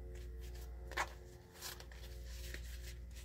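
Tarot cards are shuffled by hand, giving soft riffling and sliding card sounds with a few crisp snaps over a steady low background hum.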